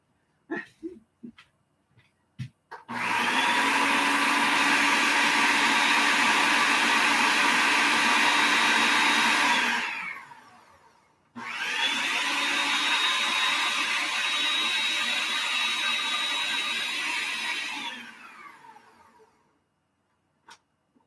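A kitchen appliance whirs loudly while churning milk into butter, running steadily for about seven seconds, stopping briefly, then running again for another six seconds, with a few small clicks and handling noises before it starts.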